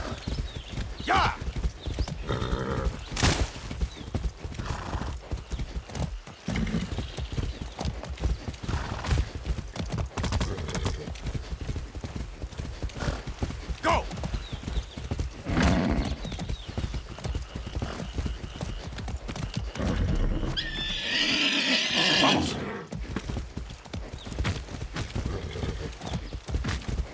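Rapid hoofbeats of a galloping horse in a video game pound steadily throughout, with occasional whinnies and snorts, and a voice speaks briefly over the clatter.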